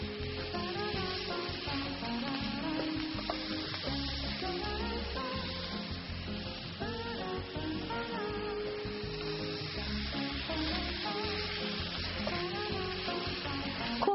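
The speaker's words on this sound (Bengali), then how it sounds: "সটে করে নিচ্ছি" Onions, chillies and sugar sautéing in a little oil in a pan for a crunchy beef dish, giving an even, continuous close sizzle that holds steady throughout.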